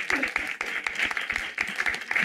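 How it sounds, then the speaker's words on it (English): An audience at a spiritual talk applauds, a lively patter of many clapping hands with distinct sharp claps, fairly close and moderately loud, sustained through the whole short stretch. "Applaud for yourself."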